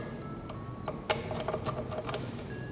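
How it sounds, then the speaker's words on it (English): A screwdriver held tight and scoring marks through a template for an LS to CD009 transmission adapter install, a few sharp scratchy clicks and scrapes in irregular bursts over a quiet background hum. "I'm going to take a screwdriver here and hold it in tight so it's not moving around, and just make some marks."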